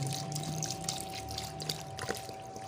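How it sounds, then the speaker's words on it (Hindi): Water pours quietly into a pot of beef korma, a soft, continuous trickle and splash heard close by, faint against a steady background hum. "तो पानी डाल रहे हैं हम।"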